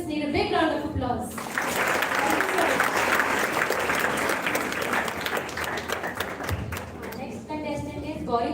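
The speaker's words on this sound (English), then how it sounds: "these students and participants need a big round of applause" School audience applauds declamation contest participants: a voice talks at the start, then a burst of dense clapping fills several seconds before fading as another voice resumes at the end.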